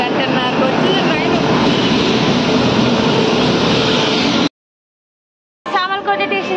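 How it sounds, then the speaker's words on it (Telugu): A passenger train pulls into a station on the Anakapalli to Tirupati route, a loud, steady broadband rumble that runs for about four and a half seconds, cuts to silence, then gives way to a nearby voice. "ఇప్పుడు వచ్చిందమ్మా, 1 గంటన్నరకు వచ్చింది ట్రైన్."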